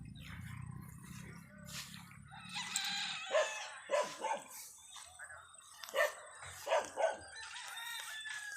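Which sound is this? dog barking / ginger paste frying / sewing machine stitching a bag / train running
dog barking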